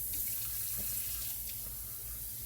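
About three quarters of a cup of water poured into a pot of chili, a steady running splash that holds at an even level throughout, close and alone.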